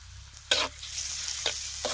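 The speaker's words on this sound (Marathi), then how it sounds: "सगळं तेलात असं चांगलं भाजून घ्यायचं" Cumin, chopped garlic and chilli kharda paste frying in oil on a wood-fired clay stove, a steady close sizzle cut by three quick scraping stirs of a spoon.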